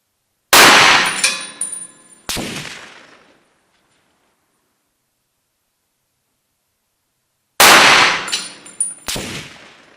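Argo carbine rifle fired with an Aimpoint H30 sight: sharp loud shots, each trailing off in a long decaying echo, a pair of quick blasts followed after a long silence by another pair.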